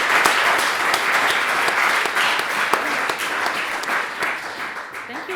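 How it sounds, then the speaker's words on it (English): Sustained applause from an audience at a spring speaker series talk, dense steady clapping filling the room from start to finish with a few faint voices mixed in. "A round of applause, please, for that."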